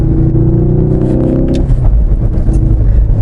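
Ford Focus RS driving hard through mountain road corners, loud engine note with a high revving tone that drops off midway, then lower rumbling and road noise, no talking.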